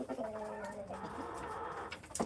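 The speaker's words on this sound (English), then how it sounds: "No, this is one of the roosters. You're a bad rooster." A rooster clucks and coos in low, short bursts at close range, fairly quiet, with outdoor background noise and no clear speech.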